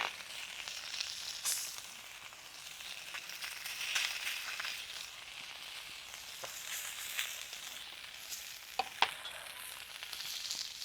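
Rohu fish pieces coated in salt and turmeric fry on a tawa over a village wood-fired stove, giving a steady, moderate sizzle with scattered crackles and one or two sharp pops near the end.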